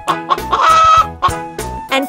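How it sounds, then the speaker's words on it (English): Cartoonish chicken clucking from a farm-themed children's nursery rhyme, a series of short bright clucks in quick succession, loud and close with no voices. "Chickens cluck, cluck, cluck."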